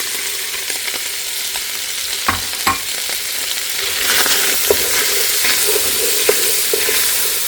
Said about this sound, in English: And now I'm going to add the Trinity, the onions, the celery, and the green peppers.